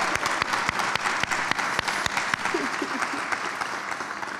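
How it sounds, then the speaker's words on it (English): An audience at a Gwinnett County citizens academy graduation for the class of 2025 breaks into applause, a dense sustained clapping with sharp individual claps popping out and a brief voice underneath. "To the unstoppable, unforgettable class of 2025, give yourselves a big cheer."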